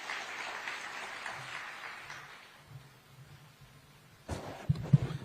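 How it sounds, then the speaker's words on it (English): An audience at a State House Mazingira Day ceremony claps in thanks, a moderate wash of applause that fades out, followed by a few sharp knocks and handling bumps near the end. "let us give him a clap to tell him thank you"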